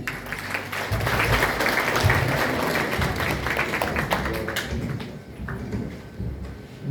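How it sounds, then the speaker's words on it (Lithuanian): An audience at a farmers' thanksgiving evening in Ukmergė, Lithuania, claps steadily for several seconds, a dense patter of hands that fades out near the end. "Plojimai."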